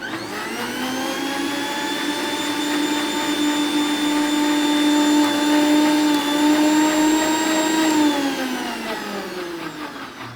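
A juicer mixer grinder jar filled with water runs in a speed test, giving a loud, steady motor whine that holds, rises slightly in pitch, then winds down near the end, alone without talk.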